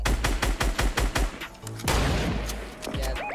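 Rapid gunfire in a Fortnite battle: a quick run of sharp, evenly spaced shots, then a heavy blast and continuing crackling fire, loud and close.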